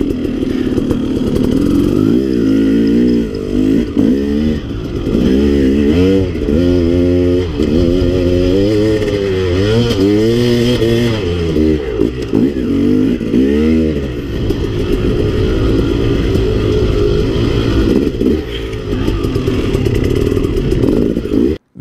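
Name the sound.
dirt bike engine revving on steep cliff trail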